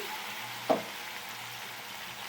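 Medium-sized tomatoes and ground spices fry in a pan, a steady sizzle with one brief clatter partway through, close and even.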